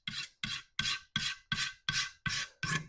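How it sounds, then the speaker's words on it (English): Eight steady, evenly spaced rasping strokes as a blade is scraped at a slight angle along a tool's wooden handle, shaving off chunks of wood, close and fairly loud with short pauses between strokes. "And you can see it scraping off chunks."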